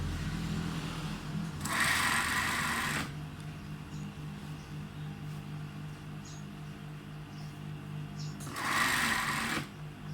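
A sewing machine stitches along the edge of a sarong fabric in two loud bursts, roughly a second each, separated by a quieter stretch of low mechanical hum.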